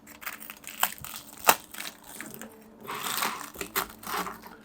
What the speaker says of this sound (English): Let's cut into the haddock.